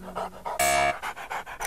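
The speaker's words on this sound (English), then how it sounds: "Go after that dog!" A dog pants rapidly and close, in quick rhythmic breaths, with a brief sharper burst of sound partway through.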